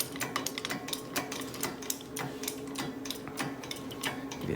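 A Harbor Freight 12-ton pipe bender's hydraulic jack is worked by hand to bend aluminum pipe, giving a fairly quiet, steady run of sharp ratcheting clicks and ticks in an even rhythm.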